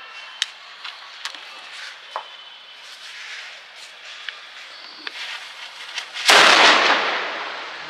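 A Diwali firecracker goes off outdoors: a scatter of sharp small cracks and pops, then one loud bursting blast that rolls into a hissing, crackling tail.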